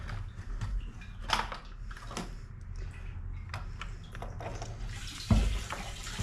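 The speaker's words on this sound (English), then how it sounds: "I don't know which way the gas pours out with this" Gasoline trickling out of a disconnected fuel line on a 2007-2013 Chevrolet Silverado during a fuel pump repair, a faint steady splashing and dripping, close up, with a few small clicks and no talk.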